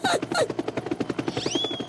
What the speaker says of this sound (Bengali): ও নো, হেলিকপ্টার এদিকে আসছে